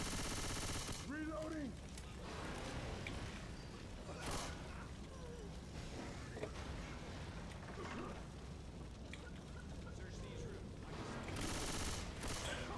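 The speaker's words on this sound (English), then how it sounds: "Get to shoot these aliens." Dense rapid gunfire rattles almost without pause while shooting aliens in Left 4 Dead 2, loud and continuous with explosive bursts, a brief game voice early and faint talk underneath.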